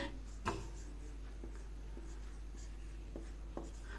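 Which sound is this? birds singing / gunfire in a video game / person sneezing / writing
writing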